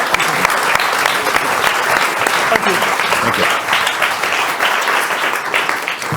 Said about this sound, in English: can I have a round of applause for the panelists?